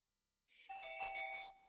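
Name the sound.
doorbell chime from IQ security kit sensor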